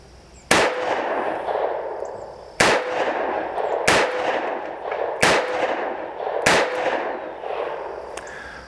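A Taurus Model 85 UltraLite revolver fires five .38 Special rounds, the first in single action and the rest in double action. The loud, sharp reports come about one to one and a half seconds apart, each trailed by a ringing echo.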